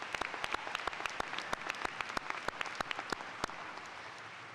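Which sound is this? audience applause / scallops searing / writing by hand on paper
audience applause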